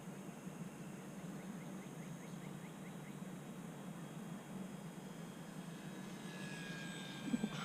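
E-flite UMX Air Tractor RC model airplane making a slow, low flyby near buildings: a faint, steady electric motor drone over background hum, growing slightly louder with a rising whine toward the end.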